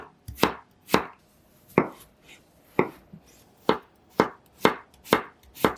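A knife slices three potatoes into ginkgo-leaf shapes on a cutting board, giving about ten sharp, close chops at a steady, slightly uneven rhythm with quiet gaps between them and no talking.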